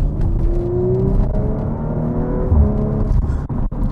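A 2019 Audi RS5 Coupe accelerating hard, heard from the cabin: a loud, rising engine drone that steps through a gear change, over a deep rumble of road noise.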